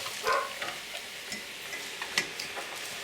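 Fresh chard or spinach going into a pan for a curry and being stirred, a soft rustling scrape with a light sizzle, one brief louder clatter at the start and small scattered ticks after.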